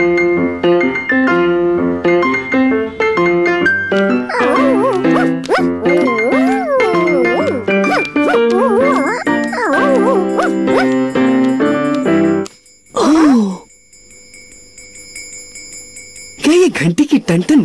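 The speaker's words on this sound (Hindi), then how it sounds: "घंटी की टंटन वही है जो मैं समझ रहा हूँ विनी।" A cartoon ice cream truck's bell jingles in a bright, repeating chiming melody, loud and up front, with brief animated voices and sound effects breaking in near the end.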